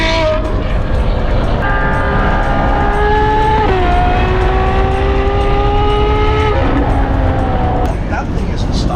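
Ferrari 812 GTS engine at speed on the road, a loud sustained mechanical whine whose pitch drops sharply partway through as the car downshifts, with a voice speaking over it.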